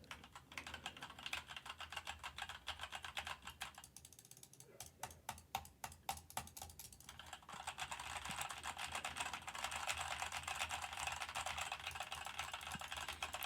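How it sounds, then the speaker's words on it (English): Someone types on a Keychron K2 mechanical keyboard with light Cherry red switches, a rapid, close clatter of keystrokes with brief pauses, ending in a denser flurry. "Keychron K2 keyboard with cherry red switches, which are super light."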